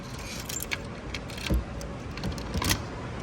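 Keys jangle in short metallic bursts as ride carts are locked, a few close rattles and clinks spread over several seconds.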